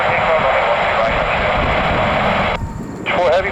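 A jet airliner takes off at JFK airport, its broad engine roar loud and steady, dipping briefly and then swelling again, with radio voices crackling over it.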